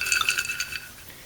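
Unpopped popcorn kernels rattle inside a Rapid Brands microwave popcorn popper in a 1,000-watt microwave, a quick run of faint, light clinks and ticks that thin out and fade within about a second.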